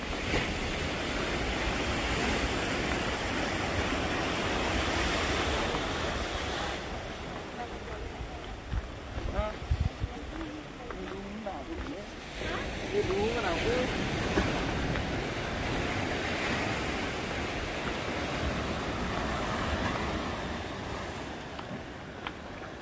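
Surf rolls and washes steadily at Cemongkak Beach in Pecatu, Bali, a broad continuous roar mixed with wind buffeting the microphone, with faint voices now and then underneath.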